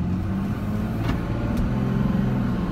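A Ram 3500 turbo diesel pickup engine running steadily, a loud, close, even rumble with a constant low drone and no revving throughout.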